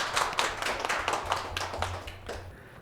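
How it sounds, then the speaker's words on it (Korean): An audience at a local animal-policy panel discussion claps for a few seconds, a quick patter of many hands close by, with a faint low tone running underneath. "일부 발제해 주신 김민수 교수님 다시 한번 뜨거운 박수 부탁드리겠습니다"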